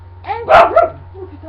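A dog in the video game GTA 5 barks a couple of quick, sharp times, close and clear, as a voice mutters briefly.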